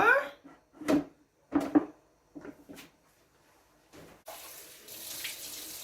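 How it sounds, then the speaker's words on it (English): Tap water rinsing out a bowl in a kitchen sink, short splashing bursts that start and stop several times, then a steadier quieter stream of running water at the end, close by. "So I'll just rinse out that bowl that I had here before."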